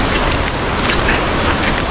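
Loud, steady roar of a waterfall in Malinao, Albay, heard from the stairs leading down to the falls, a dense unbroken rush of water with no voices.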